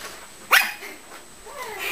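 A puppy from an older litter gives a single sharp bark at a breeder's home, with faint whimpering and playful yips from the other pups in the background.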